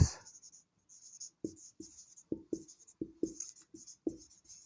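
A pen scratching across paper in short, separate strokes, close and clear, with brief pauses between bursts as a math solution is written out.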